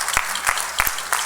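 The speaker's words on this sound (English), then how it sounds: "I think a round of applause" Audience applause at a Border Legends event, a broad crowd clapping with a few louder individual claps standing out, fairly close and brief.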